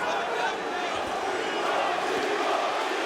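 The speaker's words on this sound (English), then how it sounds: "And listen to this crowd get behind Thibaut Gouti." A fight crowd roars steadily in an arena, cheering on French fighter Thibaut Gouti during a Bellator bout, a dense continuous wall of voices at even loudness with no clear breaks.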